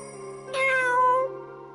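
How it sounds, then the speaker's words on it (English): A cat gives a single clear, drawn-out meow over a quiet, humming background, close and distinct. "Oh, it's just a cat."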